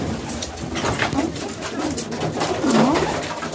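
Several pigeons coo nearby in a pigeon breeding room, soft, rolling, repeated calls over a constant background hum, with no talking.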